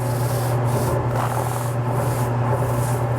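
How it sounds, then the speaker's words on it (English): A 400-grit 3M sanding sponge rubs against a wooden Christmas tree ornament as it is turned, giving a steady, close, loud abrasive hiss with brief rhythmic pulses and no voices. "sponge 3M product, which is good for my final shaping because it conforms to the workpiece"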